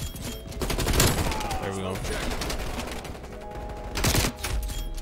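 Rapid bursts of XM4 rifle fire ring out during a Call of Duty Cold War match on the Nuketown map, loud volleys with brief pauses between them, while someone speaks briefly over the shooting.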